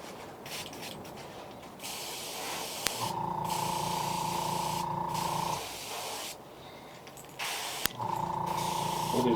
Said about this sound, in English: we'll just paint the whole thing